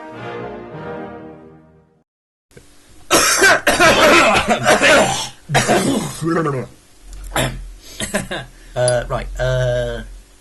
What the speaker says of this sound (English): We're gonna cough a lot